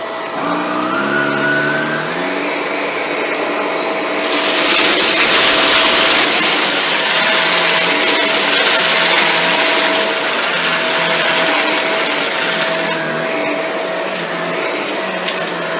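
Shark Rotator Lift Away Speed NV682 vacuum cleaner runs loud and steady with a constant whining motor tone and rushing airflow, swelling louder for a few seconds as the nozzle is lifted over debris.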